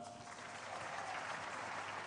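A church congregation at a Sunday service gives a brief burst of steady clapping, heard faint and distant throughout.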